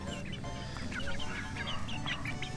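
Several chickens cluck and murmur inside a chicken cage at a tiny home in the Philippines, with repeated soft clucks over a steady farmyard background.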